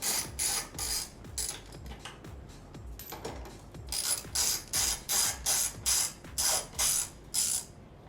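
A 10 mm socket wrench ratchets bolts loose during a fog light install on a 2015 Toyota Tundra, with a sparse run of clicks followed by a steady series of quick ratcheting bursts close to the mic, and no talking.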